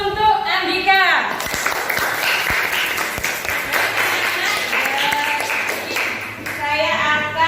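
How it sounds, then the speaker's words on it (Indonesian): Classroom audience of students claps in a burst of applause, loud and close, with voices calling out over the clapping. "aplaus untuk Andika"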